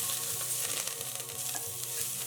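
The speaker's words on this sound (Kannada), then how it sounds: "ಈರುಳ್ಳಿ ಎಲ್ಲ ಕೆಂಪಗೆ ಫ್ರೈ ಮಾಡ್ಕೊಳ್ಳೋಣ." Chopped onions, curry leaves and ginger-garlic paste sizzle and crackle steadily in hot oil, frying loud and close without pause.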